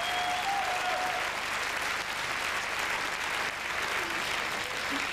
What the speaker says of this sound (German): Applaus für die beiden!